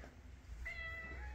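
A cat gives a single short meow, faint and close, over a quiet indoor room hum.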